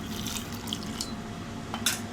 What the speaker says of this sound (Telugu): ఇందులో కొంచెం వాటర్ వేసుకోవాలండి, చిక్కగా ఉంది కదా.